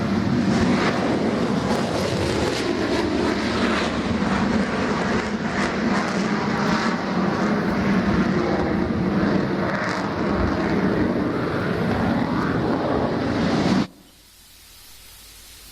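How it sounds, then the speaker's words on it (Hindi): A Tejas light fighter jet flies at the Aero India 2021 air show in Bengaluru, its loud, roaring engine rush holding steady for about fourteen seconds before cutting off abruptly into quiet. "हल्का लड़ाकू विमान है, तेजी से मार कर सकता है और घातक हथियारों से लैस ये तेजस विमान"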